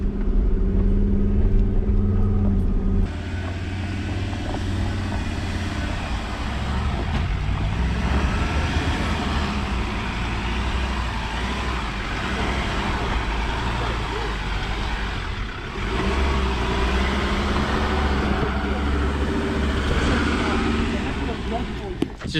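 A 4x4's engine drones steadily and loudly as the vehicle climbs a hill with its locker engaged, giving a low continuous rumble that shifts a little in pitch as it works. Speech can be heard over the engine.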